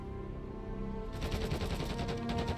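Rapid automatic gunfire rattles out in a video game, sharp and close, starting after a second of steady game background tones.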